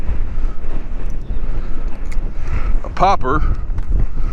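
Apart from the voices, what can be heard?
strong wind blowing outdoors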